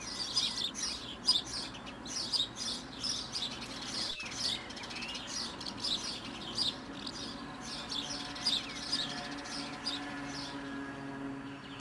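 House sparrows chirp busily in quick, overlapping bursts, several birds at once, with a soft outdoor hum underneath and one brief low thump midway, in Côtes d'Armor, France.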